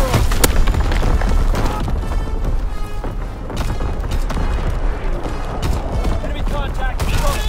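An artillery barrage fires in the video game Call of Duty WWII, with heavy booms and crackling volleys in a dense, rumbling battlefield mix, and game voices heard over it.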